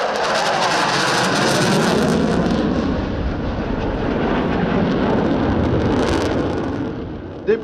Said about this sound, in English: formation led to a tactical demonstration by the 2 F-16s